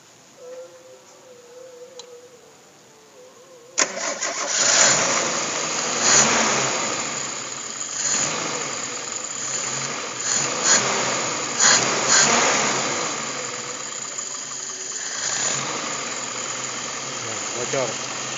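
A Suzuki Escudo engine fitted with a Kijang 5K carburetor cranks and catches, then runs loudly with uneven revving and surging, close by, with a faint voice before it starts.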